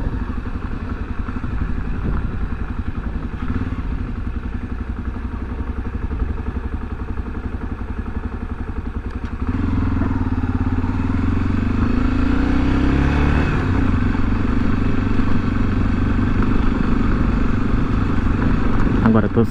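A Honda XRE300 motorcycle climbs uphill in second gear, its engine droning steadily and loudly close by throughout, with the pitch and load shifting partway through as the bike pulls harder.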